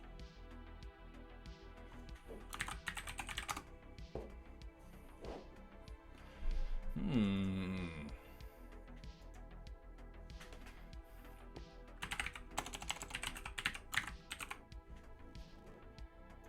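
Keys clatter on a computer keyboard in irregular bursts, with a louder knock or clunk partway through, close and fairly quiet with no voices.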